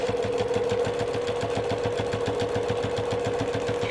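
A sewing machine stitches a zippered travel bag with a fast, even mechanical chatter of needle strokes and a steady motor hum, running close and alone without a pause.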